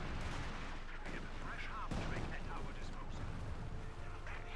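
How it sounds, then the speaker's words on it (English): Artillery barrage from two Panzerwerfers in Company of Heroes 2: continuous dense rumble of booming shell impacts and rapid gunfire, steady and loud throughout, with a commentator talking over it. "the artillery field officers coordinate barrage bombs over"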